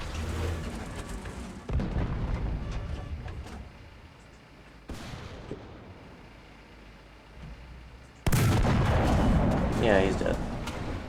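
Gunfire and heavy cannon blasts from the War Thunder combat game, loud booming shots and rumbling bursts in several sections, with a sharp, intense volley near the end.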